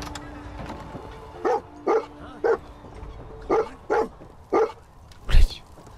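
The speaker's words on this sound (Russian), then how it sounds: "Где-то стоит, лает на что-то." A dog in the Fallout 4 video game barks repeatedly, about seven sharp, evenly spaced barks at a moderate distance over a low game-world background hum.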